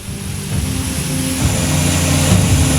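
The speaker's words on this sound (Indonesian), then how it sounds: "Dua pesawat Hercules membawa bantuan mendarat di Bandara Internasional Minangkabau, Padang, Sumatera Barat." Two Hercules transport aircraft landing at Minangkabau International Airport in Padang, West Sumatra, bringing aid; a steady, loud propeller-engine drone with a low throbbing hum that swells slightly and holds throughout, no voices.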